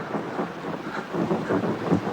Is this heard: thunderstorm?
yes